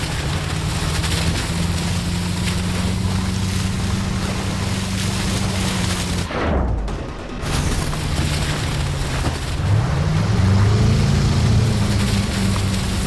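A speedboat engine roars continuously over rushing water in the Call of Duty: Advanced Warfare video game, with a loud steady drone, a brief dip near the middle, then revving pitch rising again.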